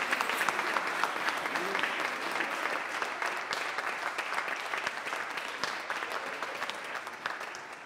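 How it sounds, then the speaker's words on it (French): A crowd at a carnival show applauds and cheers in a lively, continuous round of clapping with sharp individual claps scattered through it and voices faintly mixed in. "Une acclamation"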